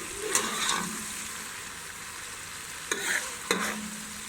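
Tomato masala with chili and turmeric frying in a pan, with soft sizzling under a few short scraping bursts from a stirring spoon, heard up close with no talk.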